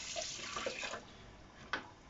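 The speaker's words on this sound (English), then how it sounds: "Quickly wash my hands after touching the chicken" Tap water running at a kitchen sink as hands are rinsed after handling raw chicken, a steady faint hiss with a few splashes and a brief louder splash near the end.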